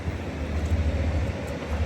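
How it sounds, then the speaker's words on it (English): A train pulls out from a station platform in Northern Ireland, giving a steady low rumble at moderate, fairly distant volume throughout the short stretch. "We're going to head down to platform 2 and get that train coming out now."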